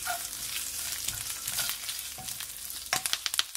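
Garlic and green chillies frying in hot oil in a pan, a steady close crackling sizzle with a few sharper pops and spatters near the end, no voices.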